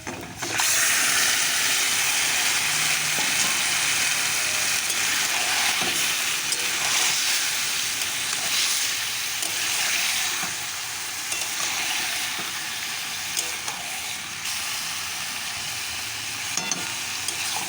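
Meat sizzles and fries in a kadai with onion paste and a little chopped onion, a steady, loud hiss with stirring throughout and no talking.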